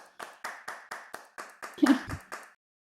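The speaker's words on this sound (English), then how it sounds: "if we could do a round of applause, that would be excellent" A conference audience gives a sparse, evenly paced round of hand claps, about nine close single claps that stop after a louder, denser burst near the end, with no talk.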